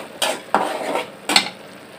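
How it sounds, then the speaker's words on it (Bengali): Masala spices cooking down in a pan for a pangas fish bhuna, heard as three short scraping stirs of a spatula over a soft sizzle, close and fairly clear. "আমি এখন মশলাটা একটু কষাচ্ছি"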